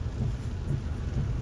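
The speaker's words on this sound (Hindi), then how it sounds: "बहुत ही बारिश हो रही है।" Heavy rain pours down steadily during a road trip from India to Bhutan in an XUV 3XO, a dense, loud, continuous roar with a deep low rumble and no speech.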